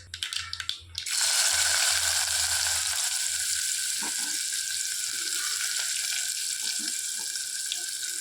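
Dried red chillies and curry leaves drop into hot oil with a sudden loud hiss that settles into steady sizzling, close and continuous, with a few soft stirring clinks, while cooking eggplant kuzhambu.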